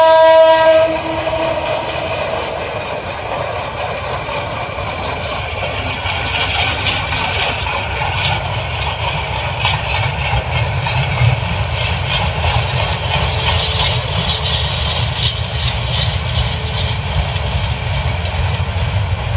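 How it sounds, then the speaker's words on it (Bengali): A train passes close by and slows to a crawl, its loud steady rumble and clattering wheels filling the scene, with a horn-like tone near the start and the rolling noise continuing evenly. "ট্রেনের গতি একবারে কমে আলছে।"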